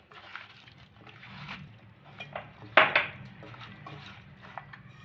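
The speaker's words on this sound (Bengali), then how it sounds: "সব দিয়ে একসাথে মেখে নেব, ভালো করে মেখে নেব।" Flat beans are mixed by hand with coriander-leaf paste and mustard oil in a dish, giving soft wet squelching and rustling with light scrapes and one sharp clink against the vessel, close and fairly quiet.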